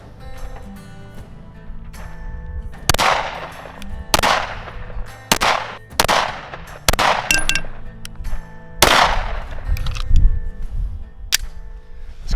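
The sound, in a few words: Sig P320X pistol gunshots at range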